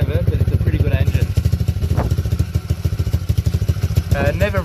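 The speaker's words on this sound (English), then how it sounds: "It's a healthy engine. The engine's fairly new as well." A healthy, fairly new single-cylinder engine on a cheap Chinese pit bike runs close by with a steady rapid putter, a voice talking over it throughout.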